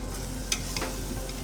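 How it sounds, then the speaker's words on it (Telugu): A secret masala for bagara rice hits hot fat in a pot, giving a steady, close hiss with a couple of brief sharper spits near the middle, no voices. "ఇప్పుడు మా సీక్రెట్ మసాలా దీంట్లో వేస్తున్నాము చూడండి."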